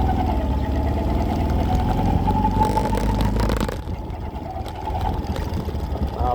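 A Honda TMX125 Alpha motorcycle engine with an abnormal noise runs close up, giving a loud, continuous rough drone with a whining tone that eases briefly and then builds again. No speech can be heard.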